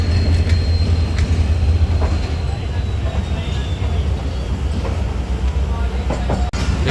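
The Awam Express, hauled by a Tiger ZCUP 30 locomotive, pulls into platform 5 on its run toward Lahore. A loud, steady rumble of rolling wheels and engine drone fills the scene, with voices faintly underneath.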